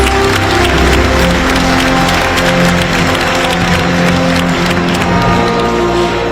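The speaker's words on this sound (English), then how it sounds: "Let us please show our appreciation by giving another big round of applause" A large audience at the APEC CEO Summit in Gyeongju delivers loud, sustained applause with some cheering, a continuous dense roar over a steady tonal background.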